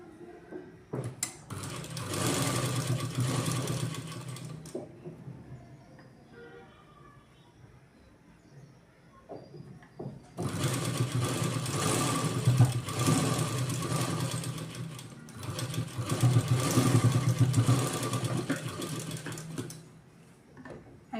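Sewing machine stitching the button placket on a blouse, running in three separate bursts of steady mechanical whirring and clatter with quiet pauses between, moderately close and fairly soft.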